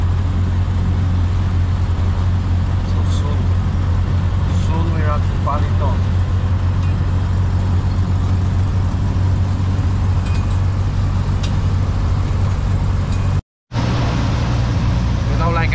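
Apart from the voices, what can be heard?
vehicle engine braking on a steep highway descent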